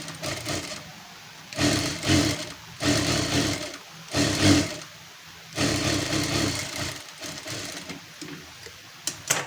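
A sewing machine stitches a quarter-inch folded hem on a blouse sleeve, running in several loud, steady bursts separated by short pauses.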